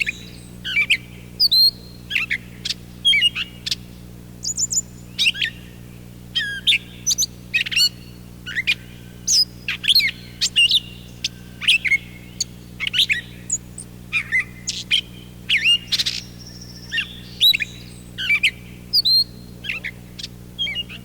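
Gray catbird sings a long run of varied phrases in a backyard, some musical and some squeaky or whining, each phrase unlike the one before, coming in quick bursts and short pauses over a low steady hum.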